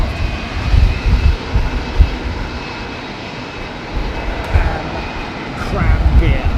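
Jet engines of a Singapore Airlines Airbus A380 with GP7200 engines roar steadily at London Heathrow in gusty wind, with bursts of wind buffeting and a person talking over the engine noise.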